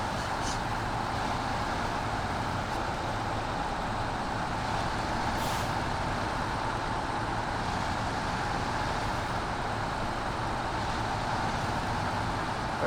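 A truck is shifted into high gear ahead of rough ground, its engine a loud, continuous roar with hiss and rattle throughout.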